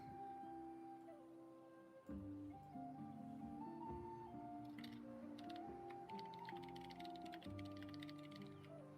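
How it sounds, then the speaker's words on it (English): Keystrokes on a computer keyboard tick faintly in the background beneath a louder layer of tonal game music and sound effects. "your microphone's really quiet, but we do get to hear your keystrokes"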